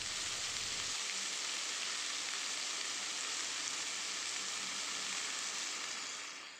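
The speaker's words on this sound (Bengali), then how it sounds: "টমেটো দেওয়ার পরে কিন্তু খুব বেশি ভাজবো না, একটু হালকা নাড়াচাড়া করে এর মধ্যে আমি অ্যাড করলাম সয়াবিন কিমা।" Soybean mince sizzling with tomato in a frying pan, a steady dense hiss of frying that holds at a constant level throughout, close up and alone with no voices.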